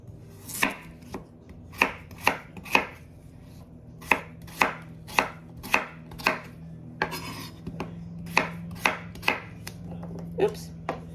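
Knife chopping food for dinner on a cutting board, a close series of crisp, uneven chops in small bursts, with light kitchen clatter between them.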